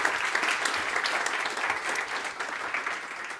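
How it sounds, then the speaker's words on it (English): A conference audience applauds as a tech talk speaker takes the stage, giving a short, even wash of many hands clapping at steady volume, with no voices over it. "So give him a good applause,"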